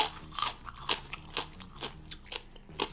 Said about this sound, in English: When you pull it off, you're gonna hear this be crispy, and it's not gonna be chewy.